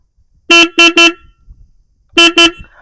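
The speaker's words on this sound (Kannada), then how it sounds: "ಇನ್ನು ಈ ಒಂದು ವೆಹಿಕಲಲ್ಲಿ ಸಿಂಗಲ್ ಹಾರನ್ ಕೊಟ್ಟಿದ್ದಾರೆ" A 2024 Royal Enfield Classic 350 motorcycle's single horn honks loud and close: three quick beeps, a short pause, then two more.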